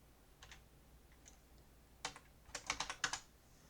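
Keys clack on a computer keyboard in quiet, close bursts, a few light taps first, then a quick run of sharper strokes, with no one talking.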